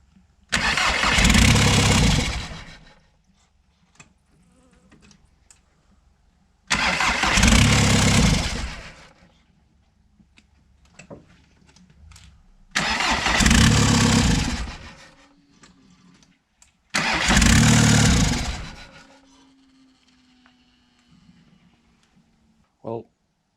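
A VW T4 van fitted with a Golf 3 TDI diesel engine cranks in four separate long bursts, each a loud churning starter-and-engine roar of about two to three seconds, separated by quiet pauses and a faint lingering hum.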